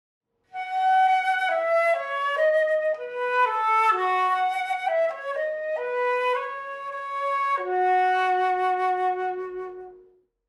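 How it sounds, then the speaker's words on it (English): A solo flute plays a bright, legato melody of sustained notes for about ten seconds, clear and close with no talking. "you might remember that the flute sounds like this"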